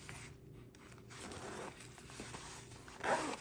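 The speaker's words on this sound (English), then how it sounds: "Nice zipper. Let's go ahead and open it up." A zipper is drawn open along a planner cover, a soft, close rasping run broken into a few short pulls, with a louder final tug at the end; no one talks.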